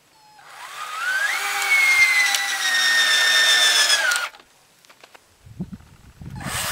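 A power drill drives 3-inch screws into the outside corners of a metal shed floor frame, giving a loud, steady whine for about four seconds before stopping, followed by faint handling knocks.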